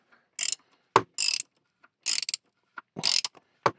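A ratchet loosening the plastic oil filter housing on a Jeep, with a 24 mm end, makes separate bursts of quick clicking, about six short runs spaced by silent pauses, close and crisp.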